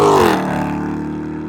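A Dodge Hellcat Redeye with a new exhaust system, heard from inside the car, gives a loud rev that peaks and then drops back to a deep, rumbling idle.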